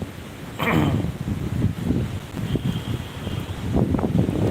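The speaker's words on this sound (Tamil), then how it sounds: "இப்போ பார்த்தீங்கன்னா வெறும் காற்று தான் அடிக்குது" Strong wind from Cyclone Fengal buffets the microphone in continuous roaring gusts, with rustling and flapping pulses throughout.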